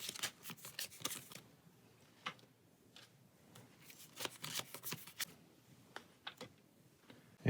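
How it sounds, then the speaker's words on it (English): Playing cards being shuffled into location stacks for the Pathfinder Adventure Card Game, with quiet, close riffling and snapping in irregular bursts, soft tapping between them and no talking. "And then we will shuffle these into the stacks."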